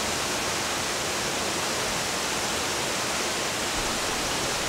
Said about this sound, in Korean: 기린교 아래로 물소리가 굉장합니다